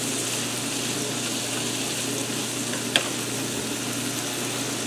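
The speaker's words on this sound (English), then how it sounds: "Alrighty, stir that all together." Corn with butter, cumin and lime sizzling in a skillet as it is stirred, a steady, close frying hiss with a single sharp pop or spatter partway through.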